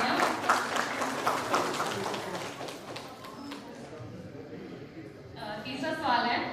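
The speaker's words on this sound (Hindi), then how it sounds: "जोरदार तालियां।" Audience applause at a Birsa Munda 150th birth anniversary celebration: a loud, dense burst of clapping that thins and fades midway, then a voice speaks over a quieter room.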